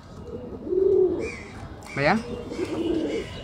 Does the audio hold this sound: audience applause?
no